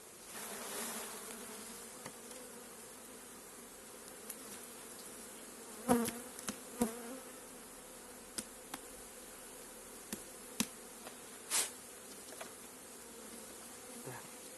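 Honeybees buzz constantly nearby, a dense droning hum with occasional clicks and knocks of handled wooden hive frames.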